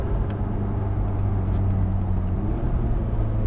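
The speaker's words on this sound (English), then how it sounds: "Let's let this car pass." A car passes on a road, heard as a steady, loud low rumble of engine and tire noise that holds evenly for a few seconds with no other sounds on top.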